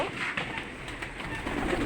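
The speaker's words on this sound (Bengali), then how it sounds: "উপরে অনেক গিরিবাস কবুতর রয়েছে" Pigeons, including flying tumbler pigeons, coo softly close by, low murmuring calls repeating over a busy background of fluttering and rustling.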